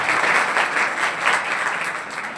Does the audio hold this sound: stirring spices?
no